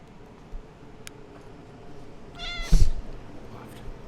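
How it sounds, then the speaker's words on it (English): A cat gives one clear meow close to the microphone, faint room noise before it and a small tick or two around it, no talking. "How doing, camera cat?"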